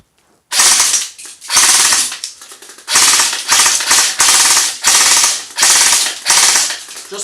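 A G&P MK46 airsoft gun fires BBs outdoors in loud, rapid full-auto bursts, about six rattling strings with short gaps between them, close and punchy, with no talk over it.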